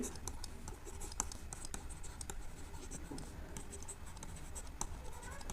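A marker or chalk scratches across a classroom board as a Venn diagram label is written. The strokes are soft, continuous and scratchy over a quiet, hissy room.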